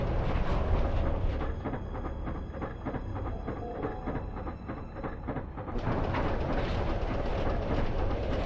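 A tram rumbles along rails in the PS2 game Blood Omen 2: Legacy of Kain, a steady loud mechanical roll with regular clacking beats that shifts in tone partway through.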